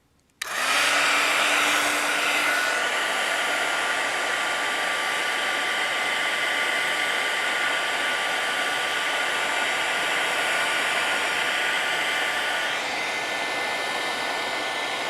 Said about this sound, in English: unfortunately, I'm going to have my heat tool going